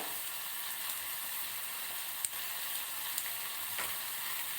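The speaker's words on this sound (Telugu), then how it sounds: "దుంపలు మనం వేయించుకోవాలి" Peeled potatoes frying in a pan give a continuous, even sizzle with a dense crackling hiss and a couple of small pops; no talking.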